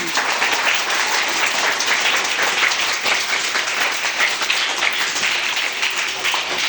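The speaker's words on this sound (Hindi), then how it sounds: "वाओ, वेरी गुड, जोरदार क्लैपिंग।" Schoolchildren in a classroom clapping loudly and steadily, a dense, continuous round of applause from the whole group with no break.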